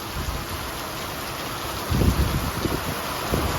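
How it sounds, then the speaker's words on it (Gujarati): Constant blustery wind roar with rain hiss, buffeting the microphone and gusting louder in the second half. "અને ભાઈ જોડે જોડે પવન બી ચાલુ થઈ ગયો છે"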